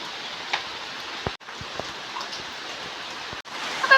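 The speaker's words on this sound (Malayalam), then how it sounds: "വീട്ടിലെത്തിയപ്പോൾ മഴ പെയ്തു." Rain falls in a steady, even wash with a few sharp drip and tap accents, continuous throughout and fairly close.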